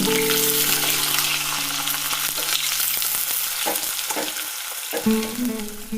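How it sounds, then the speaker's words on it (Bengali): Chopped onions fry in oil for a crab curry, making a dense, continuous sizzle close to the pan, with a few stirring knocks and brief dips toward the end. "পেঁয়াজ কুচিটাকে আমি ভালো মতো লাল লাল করে ভেজে নেব"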